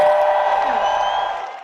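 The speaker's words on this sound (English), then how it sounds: "I'm gonna make the moles 4, just so that you can hear the cheer sound" A cheering crowd sound effect from a whack-a-mole game, a short bright burst of whoops and applause that fades out near the end.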